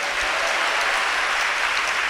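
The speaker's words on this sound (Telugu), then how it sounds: "మీరు నమ్మితే ఒకసారి దేవునికి చప్పట్లు కొట్టి స్థుతించండి" A church congregation claps together in steady, dense applause, loud and continuous throughout without any voices standing out.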